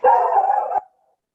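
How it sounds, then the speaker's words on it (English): One loud, drawn-out dog bark right near the microphone, lasting under a second before cutting off into silence. "Apologize for that loud dog"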